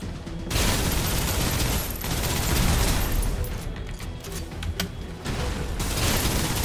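Loud continuous automatic gunfire laying down suppressive fire in the PC game Snowbreak, dense rattling bursts with short gaps and a few sharper impacts.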